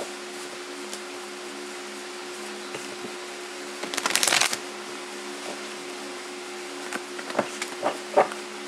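Oracle of Gaia cards being shuffled and drawn, with a brief burst of riffling midway and several small taps and flicks of cards near the end over a steady low room hum.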